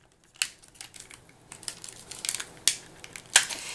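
A scallop border paper punch pressing through cardstock, a few sharp close crunching punches spaced about a second apart with soft paper rustles and handling between them.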